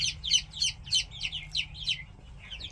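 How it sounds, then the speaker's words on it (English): Young chicks in a coop chirp in quick, bright bursts, a steady run of high peeps close by with a low background rumble and no talk. "And they're chirping away."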